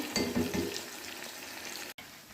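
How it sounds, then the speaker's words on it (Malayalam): Bitter gourd slices fry in an iron pan, producing a soft continuous sizzle and crackle with a few light stirring clinks near the start, close and fairly quiet. "നമ്മളിത് ഫ്രൈ ആയി വന്നിട്ടുണ്ട്"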